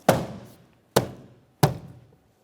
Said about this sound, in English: Just a couple light taps, driving it into position.